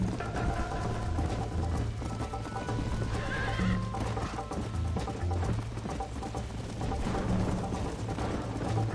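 Horse galloping in the Western video game Red Dead Redemption, with steady hoofbeat clip-clop, a whinny, and dense game music and ambience layered throughout.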